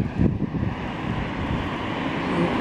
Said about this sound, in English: I can't believe how windy it is today